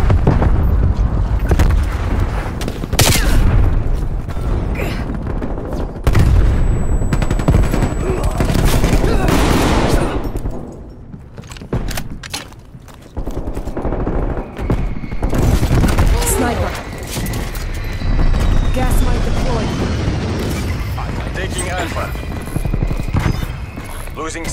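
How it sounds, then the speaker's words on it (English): Rapid gunfire and booming artillery explosions fill a busy video game battle, shots crackling in dense bursts with heavy blasts throughout while voice callouts sound over the combat. "Artillery inbound."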